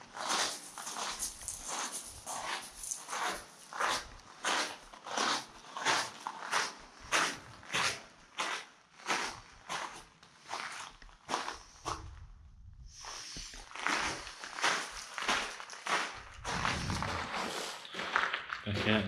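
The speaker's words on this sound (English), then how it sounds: "you're going to be able to hear my footsteps" Footsteps echoing inside the metal-lined Swan View railway tunnel, a roughly 300-meter disused tunnel in John Forrest National Park, a regular sharp tread with ringing reverb and a brief pause midway.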